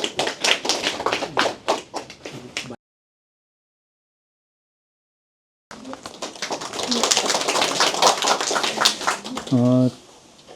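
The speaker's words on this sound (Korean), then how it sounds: "큰 박수 부탁드릴게요." Audience hands clapping at a lecture for arts middle and high school admissions applicants and parents: a few sharp, rhythmic claps, a pause of silence, then a denser, fuller burst of applause that swells and cuts off.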